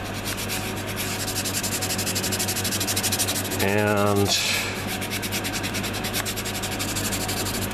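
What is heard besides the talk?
Tamiya sanding sponge sanding a model kit seam line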